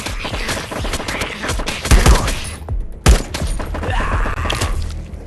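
Gunfire at a large zombie in a video game: a steady stream of rapid shots and thuds under game noise, with a couple of heavier impact bursts standing out near the middle.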